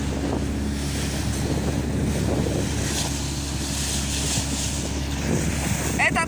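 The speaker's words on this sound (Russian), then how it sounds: "волны, опять волны, от катера пришли волны" Waves from a passing boat's wake wash steadily against the shore of the Aegean Sea on a morning, a continuous near surf roar mixed with heavy wind buffeting the microphone.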